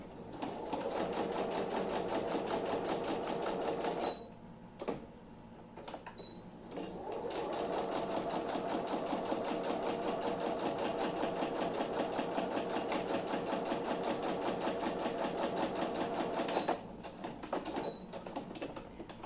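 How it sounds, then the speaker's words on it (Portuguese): Sewing machine stitching a narrow seam with the needle shifted far left: a steady close mechanical whir running for several seconds, a short pause with a few clicks, then another long continuous run. "Eu vou afastar a minha agulha, jogar minha agulha bem pra minha esquerda, pra ficar uma margem de costura bem pequenininha."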